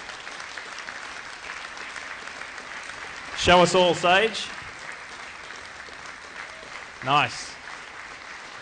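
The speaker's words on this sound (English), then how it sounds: "A round of applause." Steady crowd applause fills a 2013 IndyCar championship celebration as the championship ring is presented, a continuous hiss of many hands with a voice briefly speaking over it twice.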